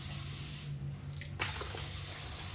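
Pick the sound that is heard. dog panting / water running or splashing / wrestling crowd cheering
water running or splashing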